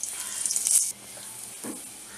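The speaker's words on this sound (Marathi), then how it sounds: "ही लसूण आपल्याला चांगली परतायची आहे" Crushed garlic sautéing in hot oil in a pan gives a bright, loud sizzle that cuts off abruptly after under a second, followed by quieter scraping and stirring noises, with no talking.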